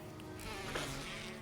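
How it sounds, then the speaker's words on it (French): Wasps buzz steadily throughout, a dense, even insect drone in the Resident Evil video game, swelling slightly midway with no speech over it. "Moi, je suis obligée de me faire emmerder par des guêpes."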